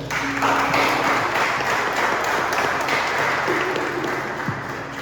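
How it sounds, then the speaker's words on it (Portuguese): A church congregation claps for the Lord during a Portuguese-language sermon, producing a moderate wash of applause that holds steady and slowly thins toward the end, with faint tones and taps mixed in. "Você pode dar uma salva de palmas ao Senhor?"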